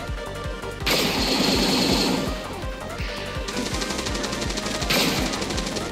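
Rapid automatic blaster and gunfire bursts in a Star Wars–modded XCOM battle, a steady rattling rhythm of loud, close shots with brief louder crashes layered over it, no voices.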